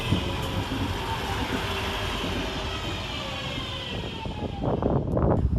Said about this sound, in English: arriving into the station at the same time is 323229, working the 1824 Northern service of Crewe to Liverpool Lime Street